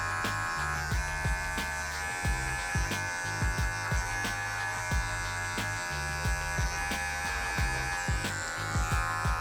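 Electric hair clippers blend a skin fade, guard on and then clipper-over-comb, with a steady close buzz broken by repeated short strokes through the hair.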